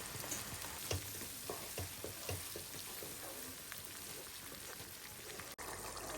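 Onion flower stalks cut into long strips sizzling in a pan with koi fish bhuna, a steady close frying hiss with light stirring clicks, no voices.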